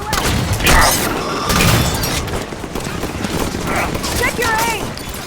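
Turret gunfire in the Halo 5 Guardians video game, a loud sustained barrage of rapid shots and booms with mechanical clatter, continuous and dense throughout.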